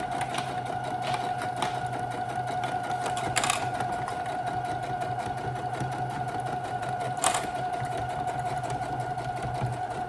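A sewing machine runs steadily, stitching around the edge of a shoulder bag with a zipped pocket, a close continuous whirring hum with a couple of brief louder bursts.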